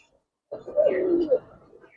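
A single silver Giribaz pigeon coos once up close, a soft throaty warble of about a second that fades into a brief low tail after a moment of quiet.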